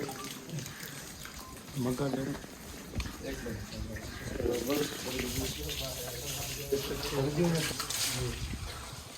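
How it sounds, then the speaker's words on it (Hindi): Hands washing in sulfur spring water flowing out between the hills at Manghopir, Karachi, a steady close splashing and gushing that continues throughout while someone talks over it. "मैं इस पानी से हाथ धो लेता हूँ।"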